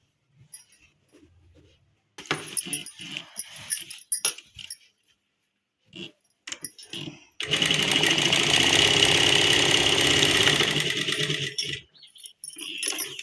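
A sewing machine stitches a loose pant seam in a fast, steady whir lasting several seconds, preceded by short start-stop bursts and handling clicks.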